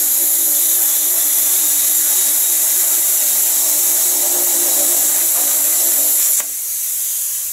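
A power tool drills holes through steel pipe for a solar ground-mount rack. It gives a loud, steady high-pitched whine with a hissy edge that drops off abruptly near the end.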